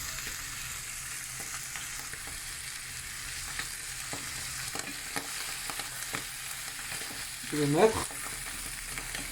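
Chopped carrot and mushrooms sauté in a pan with a constant soft sizzle and occasional stirring scrapes, while a person says a few words briefly.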